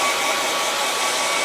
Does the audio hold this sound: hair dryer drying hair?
yes